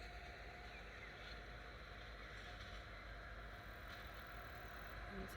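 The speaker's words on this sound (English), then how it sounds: "There's a tractor coming down the road now." A tractor driving down a country road in rural France, heard as a steady mid-pitched engine drone at moderate distance that holds constant throughout with no break.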